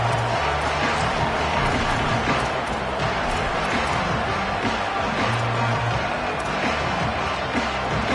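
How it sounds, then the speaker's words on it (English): Football stadium crowd cheering loudly and steadily throughout, a dense continuous roar of many voices at a college game, with no quiet breaks. "This crowd ready to make its presence known."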